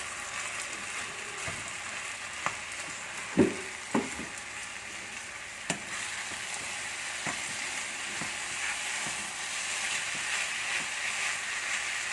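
Cooked upma mixture is stirred in a hot pan, a continuous close sizzle with a few sharp utensil scrapes and clicks against the pan.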